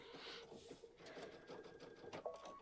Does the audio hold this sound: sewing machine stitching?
yes